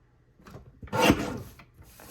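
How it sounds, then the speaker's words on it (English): A paper trimmer slices a strip of scrapbook paper in one short, close rasping scrape, with a few faint handling rustles before and after. "Now take the next strip, we'll trim this one at 11 1/4"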